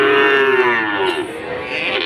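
A loud, close moo from Limousin or Pegon cattle at a cattle market, drawn out for about two seconds with a falling, droning pitch.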